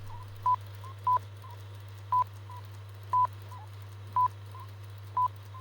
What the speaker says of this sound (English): So I'm going to put in a beep beep tone.